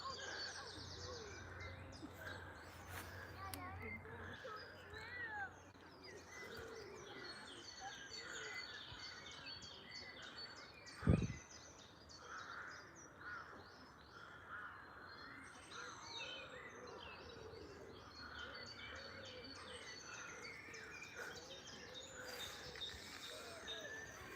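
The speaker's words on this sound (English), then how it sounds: "Here comes the crows, Jed, the magpies and every other bloody ani" Crows and magpies in Pittencrieff Park, Dunfermline, calling from a distance: repeated harsh caws and chatter over faint outdoor ambience, with one sharp thump near the middle.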